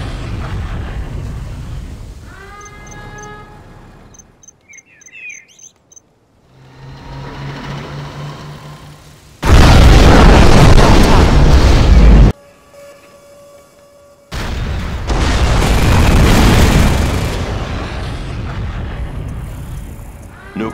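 A nuclear missile detonates in C&C Generals with the Shockwave mod, two loud, long roaring blasts separated by a brief lull, preceded by quieter game effects and tones.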